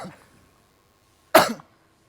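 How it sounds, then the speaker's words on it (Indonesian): A single sharp cough from a person in a studio, loud and close, after a brief faint voice at the start, followed by quiet. "Aku lagi batuk."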